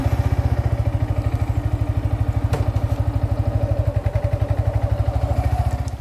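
A Yamaha XSR 155 motorcycle runs with a loud, close, steady engine thump, its fast even pulses holding at a constant pace throughout with no clear rise in revs, and no talking.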